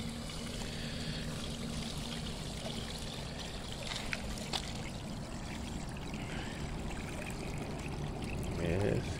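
Water pours and trickles steadily as caught green sunfish are released from a container, a continuous splashing stream with a louder gush at the end and people talking faintly in the background.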